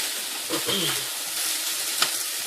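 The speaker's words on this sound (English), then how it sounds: "I've got that in a skillet here, and I'm just, you know, heating it up and browning it up" Mushrooms, black beans and brown rice brown in a skillet with a steady, close sizzle and frying crackle, with one light utensil clink near the end.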